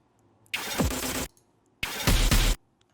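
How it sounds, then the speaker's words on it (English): A heavily distorted, unprocessed industrial drum sample in a remix hits in two dense, loud bursts, each lasting under a second, with short silent gaps around them. "Lots of industrial drums."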